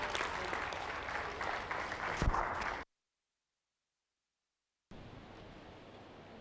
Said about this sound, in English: Another round of applause for the Commissioner General.